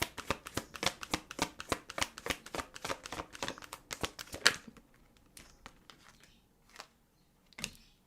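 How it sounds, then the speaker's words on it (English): A deck of tarot cards being shuffled, a quick run of crisp riffling flutters for about four seconds, then a few scattered single card snaps before going quiet. "Y'all saw me shuffle the deck, right?"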